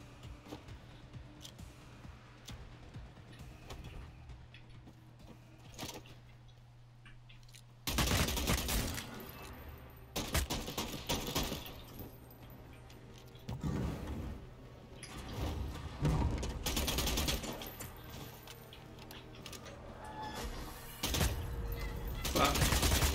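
Bursts of gunfire in the video game Bloodhunt crackle in loud clustered volleys separated by quieter stretches, with a player talking in between.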